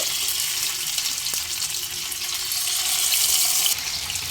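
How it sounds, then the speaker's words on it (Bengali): Small parshe fish frying in hot mustard oil in a wok, a steady broadband sizzle that holds throughout and swells louder near the end, with no talking. "কড়াইতে মাছগুলো সব দিয়ে দিয়েছি এবার এক পিট ভাজা হতে দেব"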